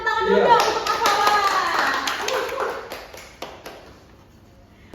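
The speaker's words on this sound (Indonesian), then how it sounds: "Terima kasih, tepuk tangan dulu" Scattered clapping from a small group during a classroom health talk on HIV/AIDS, a handful of sharp, separate hand claps thinning out over a few seconds, with voices talking over the start.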